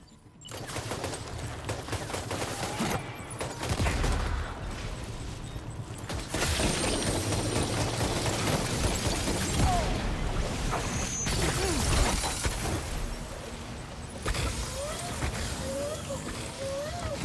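Gunfire and grenade blasts in the video game Death Stranding 2, dense rattling bursts and sharp cracks with shattering debris filling the mix continuously, loud and busy throughout, with scattered whistling tones.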